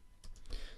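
A few quick keystrokes on a computer keyboard as a Linux command is entered, soft and close, brief clicks with nothing else around.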